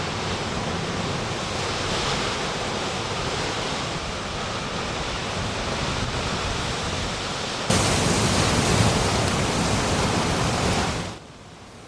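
Ocean surf pounds an island shore in a continuous broadband roar, loud and close, swelling brighter near the end before cutting off abruptly.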